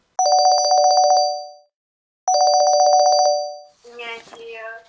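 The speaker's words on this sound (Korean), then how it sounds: "전화 연결하겠습니다." Phone ringback tone for an outgoing call, two long electronic ring bursts separated by a pause, followed by a brief burst of voices as the line connects.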